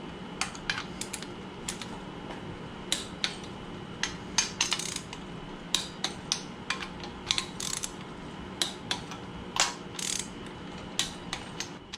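A torque wrench ratchets while tightening the cylinder head bolts of a VW engine, quick repeated metallic clicks in short bursts, close and crisp against a quiet workshop.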